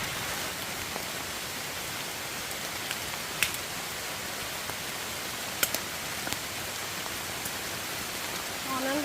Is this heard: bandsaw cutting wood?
no